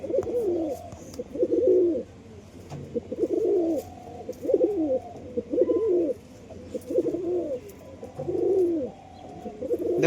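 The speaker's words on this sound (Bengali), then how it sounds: "আসল লাইনে পায়রা আছে।" Pigeons coo in a repeated rhythm of soft, throaty phrases, one close bird calling again and again with short pauses in between, against a quiet background.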